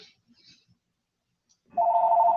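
Telephone ringing with a steady electronic trill that begins abruptly after near silence and continues loudly to the end.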